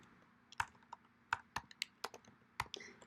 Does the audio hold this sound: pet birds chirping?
no